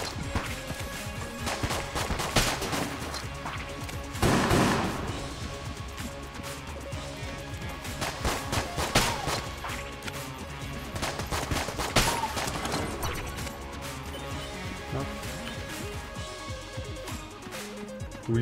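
Dense gunfire from a basic starter gun in the video game Enter the Gungeon, with rapid cracking shots and bursts going on throughout, mixed with crashes and game effects, loud and continuous.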